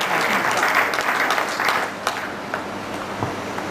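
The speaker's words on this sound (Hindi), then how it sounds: "जोरदार तालियां" An audience at a formal ceremony breaks into loud, dense applause that fills the room, then thins out into scattered claps after about two seconds.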